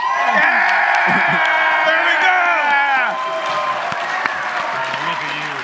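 An audience at a PAX East gaming panel breaks into applause and cheering, loud clapping with whoops and shouts that fades to scattered claps after a few seconds, with voices talking over it.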